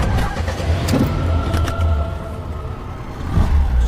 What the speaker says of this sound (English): So she's getting in her car right now to drive to the charity.